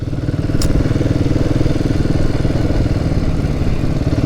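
A motorcycle compared to a Royal Enfield Bullet runs steadily at close range, its engine a thick, pulsing low throb with a rapid rhythmic beat and a brief faint click near the start.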